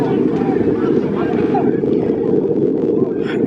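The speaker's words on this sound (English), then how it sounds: "The wind is going to be so challenging" Strong outdoor wind buffets the microphone at a semi-pro football game, giving a loud, steady low roar that persists from start to finish, with a voice faintly in the mix.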